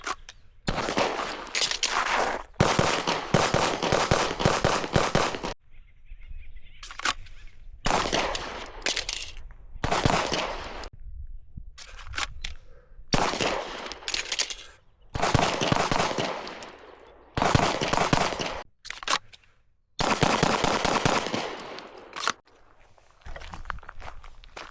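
A Glock 45 pistol fires repeated bursts of close, loud shots at target practice, each string of rapid cracks separated by short pauses.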